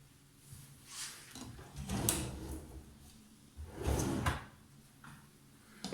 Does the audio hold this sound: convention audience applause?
no